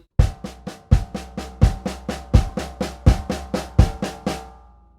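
Drum crescendo fill of steady triplets played on floor tom and snare in unison with bass drum accents, about fifteen evenly spaced ringing strokes growing in energy, close and loud with no talk, then fading out.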